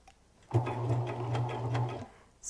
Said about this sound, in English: Slide it underneath the serger and be sure you're catching that elastic with the needle.